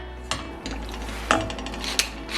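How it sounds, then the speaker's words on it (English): A spoon stirs a sausage and spinach sauce with nutmeg in a pot. Three short metallic scrapes and clinks sound against the pan over a steady low hum, close and moderately loud, with no talking. "So give that a good stir"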